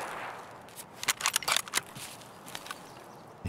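Distant gunfire in Escape from Tarkov, a scattered string of sharp cracks and short bursts clustered in the middle, faint and echoing through a quiet outdoor setting with no talk.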